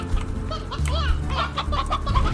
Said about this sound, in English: there's a lot of elder hens in here